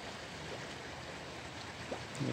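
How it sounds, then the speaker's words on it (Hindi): Water bubbling and churning at a natural hot spring in the Leepa Valley, a steady rushing wash close by with no voices. "उबल रहा है पानी"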